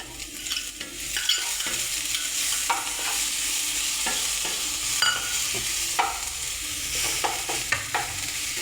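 Onions, green chilies and ginger garlic paste fry in hot oil with a steady bright sizzle, broken by repeated clicks and scrapes of a spoon stirring in the pan, close and fairly loud, no talk.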